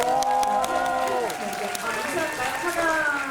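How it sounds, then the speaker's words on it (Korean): Audience applause at a Korean film talk event as three guests leave, a steady crowd clapping heard under a voice speaking over it. "세 분이 퇴장하시는 동안도 영화 잘 되라고 응원의 박수 보내주시기"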